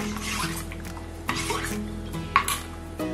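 A metal frying pan is set on a stovetop in a home kitchen, with a few light clanks and scrapes of metal against metal, close and fairly quiet, and no talk over it.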